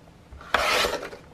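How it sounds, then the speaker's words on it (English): A blade trims around the edge of a book cover page, a single short rasping cut up close that fades within about half a second. "I'm going to trim all the way around and then split in half."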